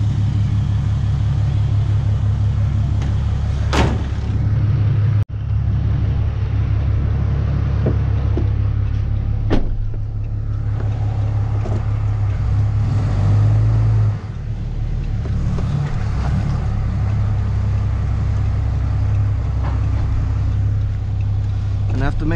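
A pickup truck reversing a gooseneck roll-off dump trailer under a heavy dumpster, giving a steady low engine rumble close by with a few sharp metallic clanks scattered through it.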